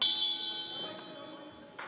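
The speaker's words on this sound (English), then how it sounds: "And there's the bell." A bell rings once to end a chess round at a chessboxing world championship, a clear metallic tone that fades slowly, heard fairly faint and without talk, with a brief noise at the end.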